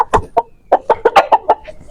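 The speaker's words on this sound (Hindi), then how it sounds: "बहुत प्यारा मुर्गा है यार" A Sargodha-breed rooster clucks in a quick series of about ten short, close calls with an uneven rhythm, heard alone without any talk.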